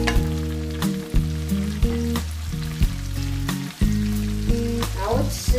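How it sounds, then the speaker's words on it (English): Buttered shrimp sizzling and frying in a pan, a steady loud hiss with some clinks and stirring, under a tonal backdrop throughout. "Now it's sizzling"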